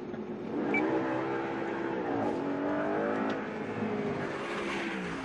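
An Audi car engine revs and accelerates steadily, rising and falling in pitch, fairly distant and continuous.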